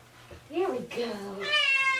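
A cat meows several times in quick succession while getting its first bath, a short wavering call rising into a longer, higher cry, close to the microphone.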